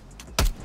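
A quick weapon stock reload from Call of Duty: Cold War, a single short mechanical clack with a brief low thump, preceded by faint metallic handling noises.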